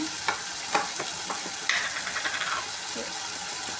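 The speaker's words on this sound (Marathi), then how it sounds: "सगळे मसाले व्यवस्थित परतून घेऊया" Spices such as turmeric, Kashmiri chilli, coriander and cumin powder sauté in a pan for aloo dum gravy, with a steady sizzle and a few spoon scrapes and clinks nearby.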